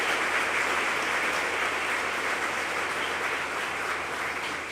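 A parliament audience at a student colloquium gives a sustained round of applause, dense steady clapping that fills the whole stretch at an even level with no voices on top.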